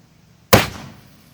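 A single sharp underground gas blast from a mole-killing device set off by a sparker, one loud thump out of near silence that decays quickly.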